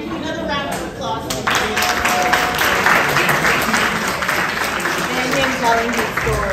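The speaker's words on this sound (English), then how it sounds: "Another round of applause" Sustained applause from a live audience at a keynote talk by a football star, steady and loud throughout, with a few voices mixed into the clapping.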